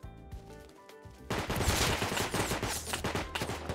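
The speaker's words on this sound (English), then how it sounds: "there's someone being shot by Bradley" Bradley armored vehicle firing in the game Rust, a sudden dense burst of rapid automatic gunfire after a quieter musical start, continuing loud and rattling to the end.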